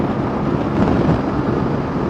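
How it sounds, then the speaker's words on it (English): Steady, broadband rushing wind buffets the microphone outdoors about 60 km from Letterkenny, loud and continuous with a brief swell in the middle. "Wind picked up a little bit"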